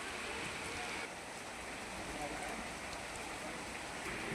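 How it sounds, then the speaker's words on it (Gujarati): Heavy rain in Gujarat pouring down in a constant rushing hiss, fairly distant and even, with no clear speech. "ધોધમાર વરસાદ થયો"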